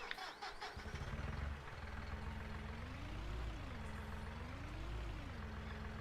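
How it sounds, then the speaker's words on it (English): A Massey Ferguson tractor engine in the Farming Simulator video game cranks over briefly, then catches and settles into a steady low diesel rumble with slow rises and falls in pitch, loud and close, with no talk. "this Massey Ferguson sounds very similar to what our 1010 sounded like when you started it up"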